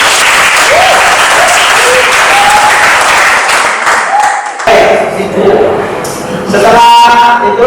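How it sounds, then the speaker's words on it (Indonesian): Audience applause at an educational logic-gate practice session, loud continuous clapping across the whole span with some voices mixed in and a brief dip midway. "apresiasi tepuk tangan buat Bapak."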